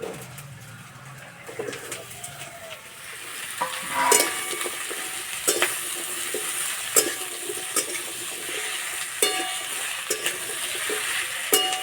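Potatoes frying lightly with onions in a pan, a steady soft sizzle with occasional scrapes and clinks of a spatula stirring, fairly close, while birds coo faintly in the background.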